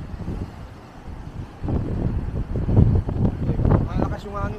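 Strong wind buffets a microphone outdoors in Old San Juan, Puerto Rico, a loud rumbling roar that swells midway while people talk over it.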